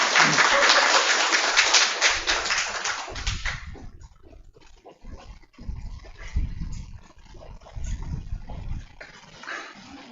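A church congregation at a discipleship class graduation service gives a burst of welcoming applause, loud and dense for about three seconds before fading out. Scattered sounds and a voice follow as a speaker comes forward.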